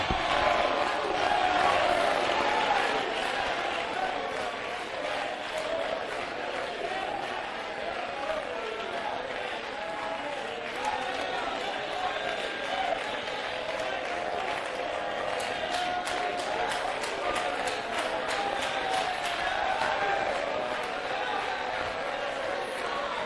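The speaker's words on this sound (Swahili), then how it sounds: "Shout, give praise." A church congregation at a revival service shouts praise together, a loud, sustained wash of many voices calling out over a full room, holding steady throughout without a break.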